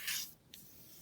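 Paper folded in half and creased for a quilt pattern piece, giving a soft papery rustle up close, then a brief second swish as the crease is pressed.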